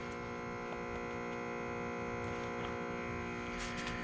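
An Advrepair automotive smoke machine leak detector runs steadily with a constant electric hum and buzz, fed into a car's EVAP line, holding an even level throughout with faint brief noises near the end.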